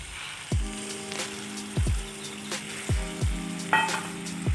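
Ground spice paste sizzles and fries in a hot pan for a vegetarian Bengali dish, with a steady frying hiss broken by repeated scraping stirs at a regular rhythm, close and moderately quiet, with no talk.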